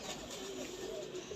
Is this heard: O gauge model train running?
no